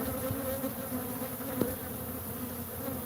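Honeybee drones, nearly all male bees, buzz steadily in a dense swarm, a constant close hum with a brief louder flick of one bee passing near the ear.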